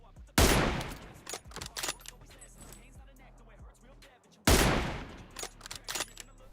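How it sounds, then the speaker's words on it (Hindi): An M24 sniper rifle fires two loud, sharp shots about four seconds apart in the PUBG video game, each with a long decaying echo, while someone talks over the gunfire. "तो मैं कोशिश करता हूँ M24 चलाने की"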